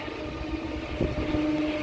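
A monorail train rumbles steadily past at a moderate distance on a hot afternoon, a low continuous mechanical hum with faint wind, no voices.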